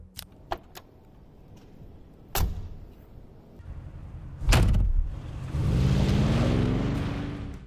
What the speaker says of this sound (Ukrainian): Навіть утворили звук, з яким зачиняються двері.